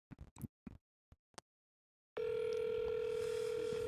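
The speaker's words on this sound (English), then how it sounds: "He don't be answering the phone." A phone call placed on speaker and held up to a microphone, left unanswered, produces a loud, steady electronic tone that starts abruptly after a few soft taps and continues without a break.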